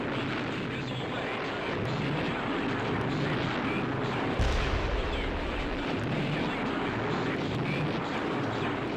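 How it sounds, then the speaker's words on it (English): Missile launch in Fleet Command, a sustained roaring rush with a deep low thump midway, steady and moderately loud against a dense background rumble, no voices. "Missile away"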